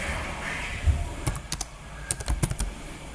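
Ctrl C and Ctrl V copy-paste shortcuts are pressed on a computer keyboard while working in Microsoft Word, giving a few crisp key clicks in two short bursts over a faint background hum.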